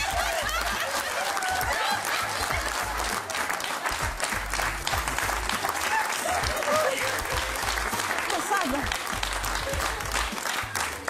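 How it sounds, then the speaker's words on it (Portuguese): Applause in a cooking show studio during a demonstration of making orange queijadas, dense continuous clapping from an audience with some chuckles and laughter mixed in. "uma salva de palmas para o meu agente."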